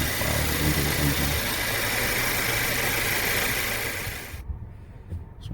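A 2019 Honda Accord 1.5-liter engine idles with a steady low rumble and hum, then cuts off abruptly near the end, leaving faint clicks and quiet.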